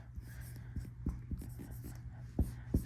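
Pencil or pen writing out a pre-calculus answer, a few seconds of soft, close scratching strokes with small taps, quiet and alone.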